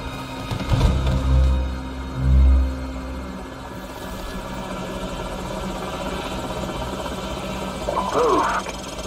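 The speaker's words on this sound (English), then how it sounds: "Enemy helicopters." A helicopter's rotor thrums steadily in the background with a low engine drone, while voices speak over it, in the video game Call of Duty 4: Modern Warfare.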